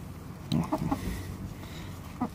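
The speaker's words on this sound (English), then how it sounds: "This is the broody hen, Lottie." Lottie, a broody hen sitting on unfertilized eggs, gives several low, throaty clucks close by in short irregular bursts, with rustling in between.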